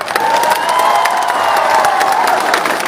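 An audience breaks into loud, continuous clapping mixed with cheering and whoops, a dense crowd sound that holds steady for about three seconds.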